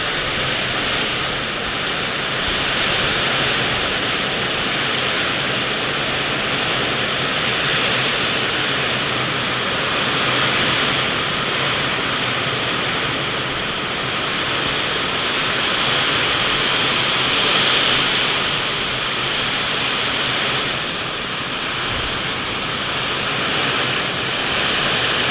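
Heavy typhoon rain pours down as a dense, continuous hiss and roar, loud and unbroken for the whole stretch, with slight swells in intensity and no voices.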